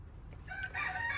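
Rooster crowing in a garden with chickens in Germany, one brief fairly distant crow under steady low background noise.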